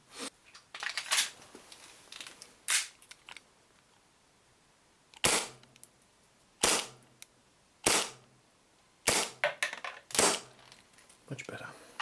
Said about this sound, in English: let's go shove this through the Chrono and we'll do a quick accuracy test